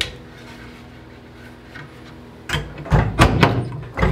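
Doors of an antique tiger oak server cabinet, freshly stripped and sanded, swing shut in a quick series of close wooden thunks and knocks after a quiet stretch of faint room noise.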